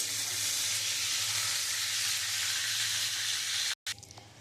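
Prawns frying one by one in hot oil in a pan, a steady loud close-up sizzle and hiss that holds evenly throughout, then cuts out abruptly for a moment before returning more quietly near the end.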